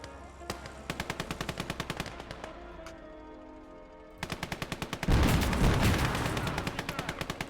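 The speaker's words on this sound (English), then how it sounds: "A BA-20 with like a machine gun on top." Machine gun on a BA-20 armoured car in a war video game, rapid bursts of evenly spaced shots with short pauses between them, ending in a heavier sustained burst mixed with an explosion-like roar.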